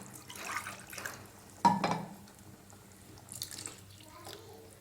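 Water splashes and pours briefly into a pot of brinjal curry being cooked, with soft kitchen clatter and faint background noise around it.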